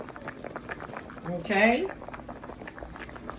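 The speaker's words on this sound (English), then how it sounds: "it's been boiling for an hour" A pot of water at a rolling boil in a home kitchen, steady bubbling and hissing running under a voice, with a louder surge of bubbling in the middle.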